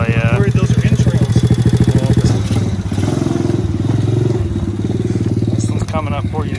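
A Honda ATC 90 three-wheeler's small engine runs close by with a fast, buzzing putter that revs and eases back, accompanied by some clattering, with someone talking over it.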